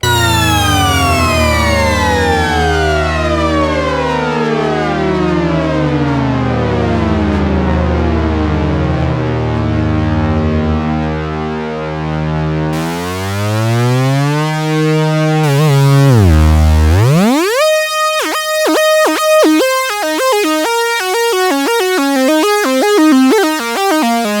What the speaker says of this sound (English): So a really cool kind of glide circuit effect.